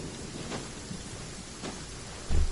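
Rain falling in the video game Genshin Impact, a steady hiss of rainfall with a few soft rumbling swells and a louder thump near the end.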